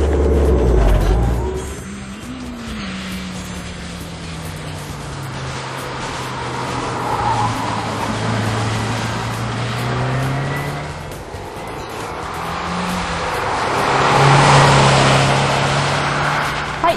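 A car fitted with a Cusco strut tower bar laps Honjo Circuit. The engine drones loudly and continuously, its pitch climbing and falling through gear changes and corners, with no voices.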